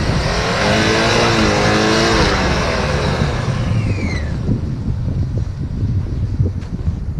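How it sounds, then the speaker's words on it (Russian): Audi 100 quattro engine revving hard as the car struggles to climb a snowy hill, a loud sustained roar that rises and falls, with wheelspin and crunching snow toward the end. "только за деньги можно на собственной машине так газовать и пытаться одолеть эту гору"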